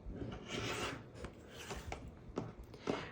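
A blade cuts off fabric edges along a curved quilting ruler, giving a few short rasping, rubbing strokes, close and quiet, with no talking.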